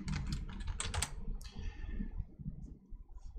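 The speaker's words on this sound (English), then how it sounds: "And then I can begin typing." Rapid clattering keystrokes on a computer keyboard, close up, in a quick burst that slows to a few scattered clicks.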